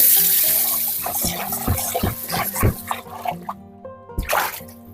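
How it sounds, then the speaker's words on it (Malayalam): A clay cooking pot is washed under running tap water with the soft side of a scrubber, giving steady close water flow, splashes and rhythmic scrubbing knocks, with a quieter pause before a final rush of water. "ഇനി ഇതുപോലെയുള്ള സോഫ്റ്റ് സ്ക്രബ്ബറിന്റെ ഈ സോഫ്റ്റ് വശം ഉപയോഗിച്ചിട്ടാണ് ഞാൻ ഇതൊന്ന് കഴുകിയെടുക്കുന്നത്"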